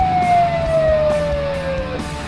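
An ambulance siren wails loud and close with a steady, slowly falling tone, continuous for about two seconds over a low engine rumble.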